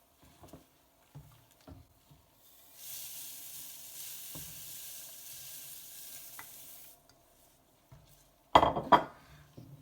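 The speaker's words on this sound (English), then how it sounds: "I'm sort of giving that a bit of a stir" Malt stirred into water in a home-brewing pot, scattered spoon knocks against the pot, then a soft, steady swishing stir for several seconds, ending in a louder clatter near the end.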